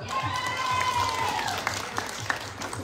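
An audience applauds band members at a live music room performance, steady dense clapping and crowd noise with a few sharper claps, while a host speaks over it.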